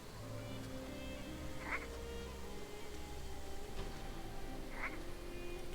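A toad in the online game Blade & Soul croaks in two brief, evenly spaced calls over a constant ambient game-world drone, with no talking.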